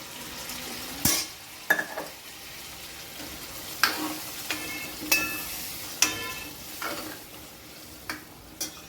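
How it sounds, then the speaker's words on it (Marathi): A spoon scrapes and stirs in a pan as cooked toor dal goes into a frying drumstick curry with tempering, giving a series of sharp clinks and scrapes over a soft sizzle, close and fairly quiet. "ही उरलेली तुरीची डाळ टाकून द्यायची"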